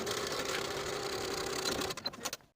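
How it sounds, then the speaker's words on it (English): A sewing machine runs steadily, stitching the short end seam of a skirt waistband with a half-inch allowance, then stutters in a few quick bursts before stopping. "Sew this one short end with a 1/2-inch seam allowance and press the seam open."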